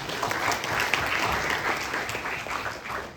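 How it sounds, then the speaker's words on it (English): Sustained applause from a crowd, dense steady clapping at an even loudness throughout. "a big round of applause for that"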